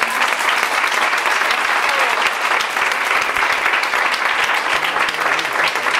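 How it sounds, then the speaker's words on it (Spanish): Audience at a talk giving loud, continuous applause, a dense, even roar of clapping sustained for several seconds with a faint low voice or tone near the end. "Un aplauso."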